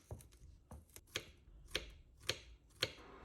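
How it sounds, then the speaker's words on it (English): Knife chopping fresh garlic on a cutting board, a handful of sharp, uneven taps spaced out, close and fairly quiet. "I followed that by chopping up some fresh garlic as well"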